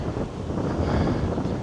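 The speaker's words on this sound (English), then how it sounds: "Man, is it ever getting windy." Strong wind buffeting outdoors on a dead-end street, a loud continuous roaring gust that rises slightly toward the middle, with no voices.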